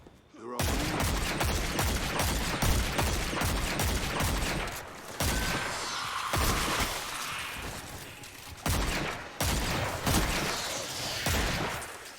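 Rapid bursts of video-game gunfire crackle almost continuously, with short pauses between volleys of automatic fire, loud and close throughout.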